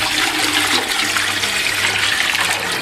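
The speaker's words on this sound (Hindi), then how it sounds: "इसके अंदर हम ये पानी डालेंगे।" Water streams steadily into a large cooking pot for a spicy Lahori chargha chicken recipe, a loud continuous gushing splash that holds close and unbroken throughout.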